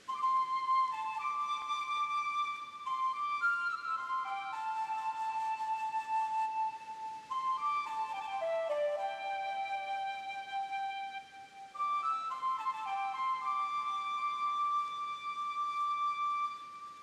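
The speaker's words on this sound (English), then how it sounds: "I do love the flute. It feels as if its tones carry to the very ends of space." Flute melody from Pokemon Legends: Arceus plays alone and clear, a slow sustained line of held tones with gentle pitch steps and brief pauses, steady and close throughout.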